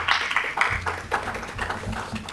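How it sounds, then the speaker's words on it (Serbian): An audience applauds after a presentation on natural gas measurement regulation, a moderate patter of hand claps, fairly close and fading toward the end. "molim jedan aplauz naravno"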